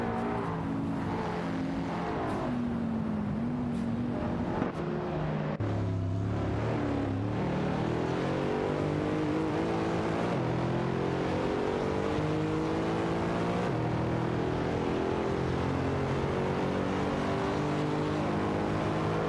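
Race car engines roar continuously in a racing video game as cars overtake, a dense, loud, droning mix with shifting engine pitch and occasional revving, no voices.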